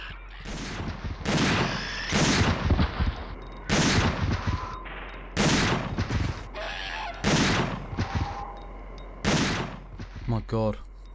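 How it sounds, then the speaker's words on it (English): Repeated loud shotgun blasts in the video game Dino Crisis 2, about six heavy booming shots spaced roughly every one and a half seconds, each trailing into a short decay, with game effects and a brief voice between them. "I'm gonna have to use a shotgun now because I'm almost out of ammo on that."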